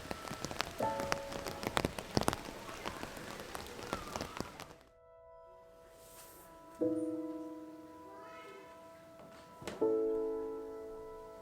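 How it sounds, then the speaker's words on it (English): Monsoon rain falls in dense drips and taps on surfaces, close and continuous at first, then softer and sparser with occasional louder tones ringing over the patter. "And it started raining again"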